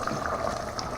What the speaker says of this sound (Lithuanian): Pas mes vanduo verda jau